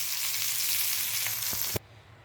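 Prawns frying in oil on a pan, a steady loud hiss and sizzle with a few clinks of stirring, then cut short, leaving only faint background.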